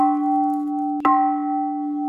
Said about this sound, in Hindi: तुरंत घंटी 3 बार बजाती है